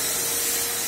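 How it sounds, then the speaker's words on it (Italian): A vacuum cleaner running in a library, a steady loud broadband hiss and whine that holds unchanged through a brief moment, alone with no voices. "Adesso vi faccio vedere da dove è partito con l'aspirapolvere."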